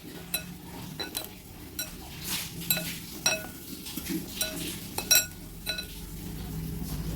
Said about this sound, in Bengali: এবার ভালোভাবেই সব কিছু শুকনো শুকনো মিশিয়ে নিচ্ছি